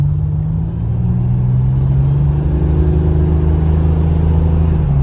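A car engine holds a steady low drone as it accelerates toward turbo boost, with the pitch slowly climbing; it is loud, close and heard from inside the cabin, with no talking.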